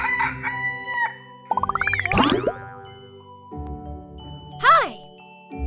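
A rooster crows clearly and loudly close up, with a cluck and some bright jingling or boing effects around it; no talk over the call.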